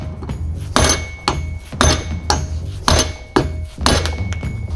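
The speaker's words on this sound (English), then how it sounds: "so we'll just keep whacking it" A hammer repeatedly whacks an old Fox shock body to drive out a bearing, producing about nine loud, close metallic blows in a steady rhythm, each with a ringing clang, with no talking.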